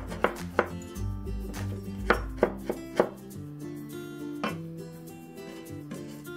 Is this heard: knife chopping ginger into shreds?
yes